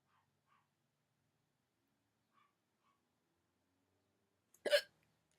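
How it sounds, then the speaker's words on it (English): A single hiccup bursts out sharp and close near the end, after several seconds of near silence broken only by faint small clicks. "I still have the hiccups"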